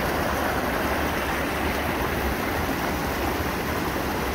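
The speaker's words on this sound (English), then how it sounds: "You hear the creek roaring over there beside us" Otter Creek roars through rhododendron in the West Virginia winter wilderness, a steady, loud broadband rush of fast water filling the whole stretch with no voices.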